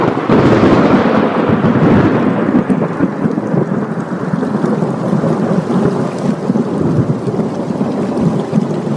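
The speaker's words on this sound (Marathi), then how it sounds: "विजा कडाडत होत्या" A staged thunderstorm effect for a play rolls on loudly and continuously, with heavy rain hiss and deep rumbling thunder swelling near the start, then a dense steady downpour.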